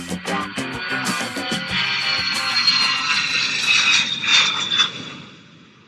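A fixed-wing airplane engine drones loudly and steadily, heard as a cabin effect, then fades toward the end.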